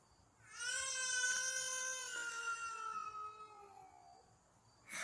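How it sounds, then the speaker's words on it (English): An eerie, echoey wail like a child crying rises and slowly fades over several seconds, a single drawn-out tonal cry heard at night on a trail camera, with a faint rustle at the end. "One can also hear the sound of a child crying, but it has an almost echoey quality, as though it is not a human voice."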